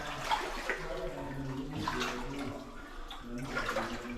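Water sloshes and splashes in slow surges as someone wades knee-deep through it inside a New Zealand gold mine, with a few swells of churning water and a faint voice underneath.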